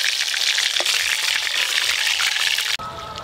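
Hilsa fish fry in hot oil, a dense close crackling sizzle that holds steady for nearly three seconds before cutting abruptly to a quieter background.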